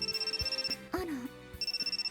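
A cell phone rings inside a visual novel game, giving a repeating pulsed electronic ring tone that stops briefly while a character's voice chimes in, then resumes.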